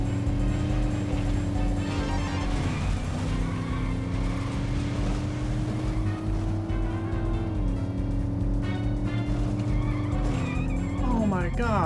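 Racing car engine in the Midtown Madness 2 video game, a continuous droning rev with tire squeals and skids as the car is pit maneuvered, sudden squealing sweep near the end, with someone talking over it at times.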